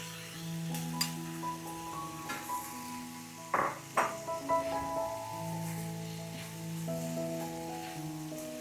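King prawns sizzle and crackle softly in a stir-fry pan with snow peas, with a few sharp clinks of utensils against the pan midway and a hum in the kitchen behind.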